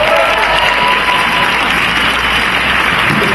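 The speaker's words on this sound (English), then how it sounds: "If we could have a round of applause, please." A crowd at an anti-homophobia candlelight vigil in Liverpool applauds loudly and continuously, a dense, even wash of clapping from many hands close by with no pauses.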